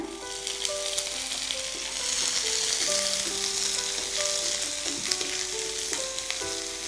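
Steady sizzling of chopped onions frying in hot oil, loud and close, with occasional stirring scrapes.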